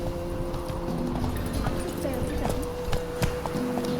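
Roach, a horse in The Witcher 3: Wild Hunt, gallops in a steady clip-clop rhythm of hoofbeats over a dense, continuous game soundscape, fairly close and loud with no talk.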